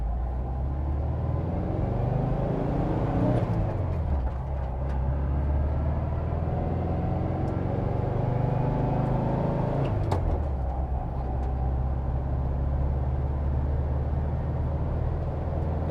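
A 1970 Volkswagen Westfalia camper van with a manual four-speed gearbox pulling away, heard from inside as a steady air-cooled engine drone that rises in pitch as it speeds up, drops back around a gear change, then settles into a constant rumble.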